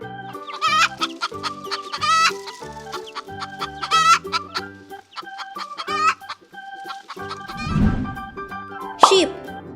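Hen clucking from a farm animal sound set, a series of close, distinct clucks and throaty calls in uneven bursts, with a sharper squawk near the end.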